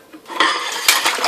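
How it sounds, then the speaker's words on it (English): Kitchen knife striking a cutting board and carrots, a couple of crisp clattering knocks and a scraping rattle of metal, close and fairly loud with no talking. "Non-serrated knife is much better for cutting carrots."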